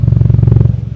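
A third-generation Toyota Vios with a modified street sporty exhaust idles and revs in a fast, loud, rumbling pulse, close up and steady before easing slightly at the end.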